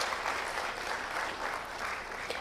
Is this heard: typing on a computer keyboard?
no